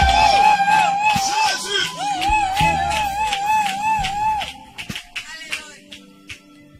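A church congregation at a worship service cheers and shouts acclamations to the Lord, with loud, sustained voices and a wavering high cry that gradually breaks into scattered whoops and fading calls.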